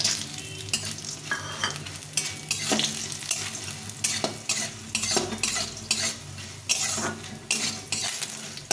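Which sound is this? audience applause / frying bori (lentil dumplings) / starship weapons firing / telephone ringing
frying bori (lentil dumplings)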